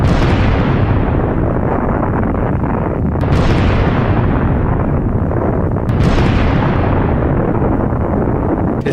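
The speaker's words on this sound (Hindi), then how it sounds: "चाबहार पोर्ट के पास हमला होता है और जबरदस्त धमाका यहां पर होता हुआ दिखता है।" Heavy, continuous rumbling blasts from a military attack near Chabahar Port roar throughout, with two sharp explosive bursts standing out about three seconds apart, loud and close.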